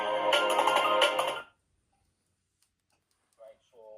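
A Blackview N6000 SE rugged phone plays its ringtone through a muffled speaker, a loud, bright melodic tone lasting about a second and a half before cutting off, followed by silence and a brief bit of talk.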